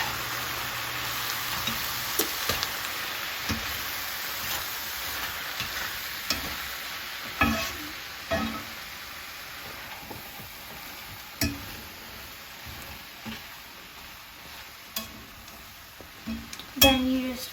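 Broth poured into a cooked flour mixture in a pan for shepherd's pie, giving a steady, close sizzle with irregular scraping and knocking from stirring that grow louder near the end. No one speaks.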